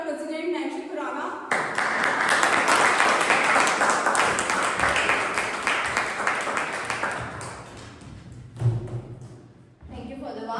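A Toastmasters club audience claps for its club president in a warm burst that swells, holds for several seconds and then tapers off, with voices talking just before and after.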